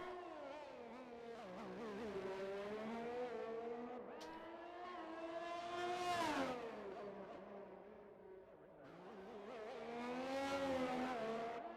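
A Formula 1 race car in F1 2021 laps the Azerbaijan Grand Prix circuit on warming tires, its engine revving high and dropping through gear changes, rising and falling in pitch continuously, loud and alone without talk.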